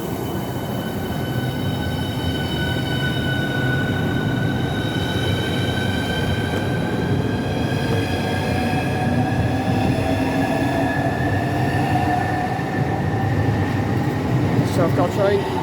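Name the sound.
high-speed train departing Stratford International station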